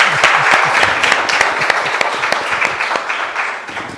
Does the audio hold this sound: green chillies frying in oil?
no